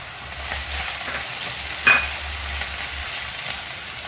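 Potato and fenugreek frying in a pan as tomatoes go in, a soft steady sizzle with light stirring scrapes and one brief louder clink midway.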